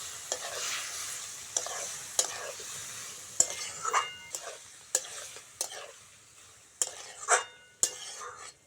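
Boiled vegetables being stirred into a frying spice paste for a vegetable curry, with a soft steady sizzle broken by repeated sharp scrapes and clinks of a spoon against the pan, close and moderately quiet.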